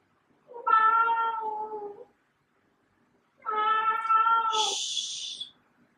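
Indoors during a yoga session, a cat lets out two long, drawn-out meows, close and fairly loud, separated by a pause, with a short high hissy sound at the tail of the second.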